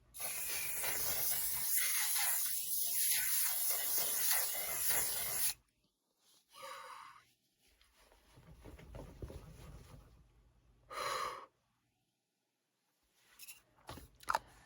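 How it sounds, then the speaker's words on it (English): An aerosol can of makeup setting spray releases a loud, continuous hissing mist for about five seconds, followed by quieter handling sounds, a brief second burst, and light rustling. "it's also a continuous mist because it's an aerosol can"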